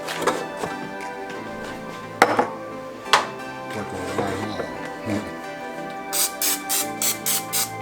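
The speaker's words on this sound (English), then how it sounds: "So we're gonna spray this side also." Cooking oil is sprayed onto chicken wings for air-fried buffalo wings in a Ninja air fryer: six or seven quick, close hissing spray pumps in a steady rhythm near the end, after softer kitchen clatter and a low tonal background.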